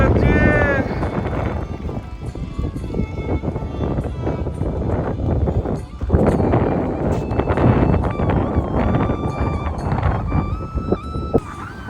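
Strong sea wind buffets the microphone at Digha beach at dawn on a cloudy morning, a loud continuous roar with gusting surges, while people talk over it.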